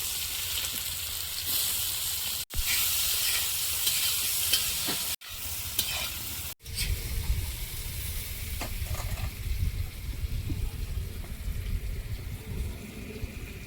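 Whole garam masala, dried chillies and chopped onion fry in a wok for a meal for fifteen guests, making a loud, steady sizzle close up. Stirring scrapes come through, and there are a few brief breaks in the sound.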